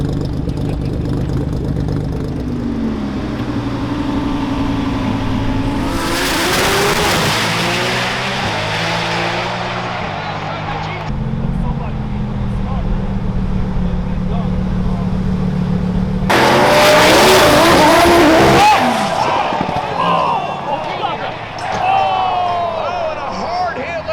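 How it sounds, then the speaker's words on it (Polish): Powerful high-horsepower sports cars, including a twin-turbo Nissan GT-R, an Audi R8 and a Mustang, roar and rev loudly as they accelerate past, with the strongest bursts in the middle and near the end, under ongoing talk. "przygotujcie się na najszybsze auta na świecie"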